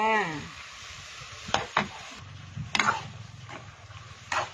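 Mushrooms stir-fry in a hot pan with a soft, steady sizzle, broken by several sharp scrapes and knocks of stirring against the pan, close and without speech.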